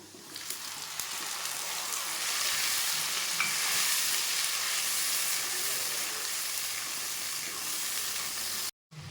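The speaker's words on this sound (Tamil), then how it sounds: "தக்காளி அரைச்சி வச்சுருந்தோம்ல அதை இப்போ நான் ஊற்றிக்கிறேன்" Ground tomato poured into fried onions for egg kurma sets off a loud, steady close sizzle and hiss that fills the whole stretch, with light stirring.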